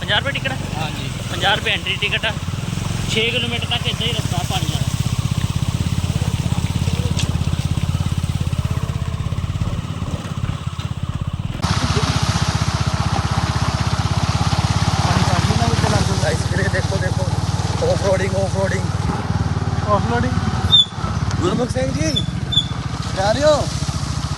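A motorcycle engine runs at a forest spot in Hoshiarpur, Punjab, a steady low drone lasting throughout, with people talking over it.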